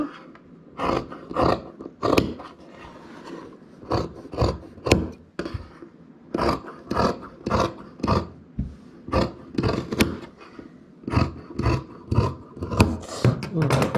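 Scissors cut through men's coat fabric on the bias, making a rhythmic series of close, rasping snips repeated steadily at roughly half-second intervals with brief pauses between runs.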